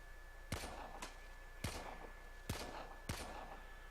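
Four sharp, loud gunshots from a weapon in Warframe, fired singly at uneven intervals with short decays and a faint hum between them.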